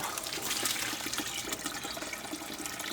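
Water pours steadily into a hydroponic vegetable tank, a continuous broadband splashing rush that stays close and even from start to finish with no talk.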